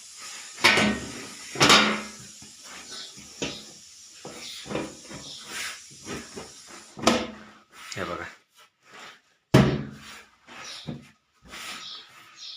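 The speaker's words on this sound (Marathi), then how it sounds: "आता याच्यावर ड्रामाची झाकणं आपली पॅक करायची आहे" Plastic lids pressed and snapped onto grain storage drums packed with wheat, a series of sharp knocks and scraping thuds at irregular intervals, close by, with a voice talking between them.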